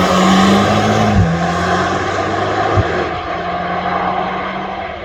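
A Mercedes-AMG Black Series car passes at the Nürburgring, its loud engine note dropping in pitch as it goes by, followed by a brief sharp transient and lingering road noise as it recedes.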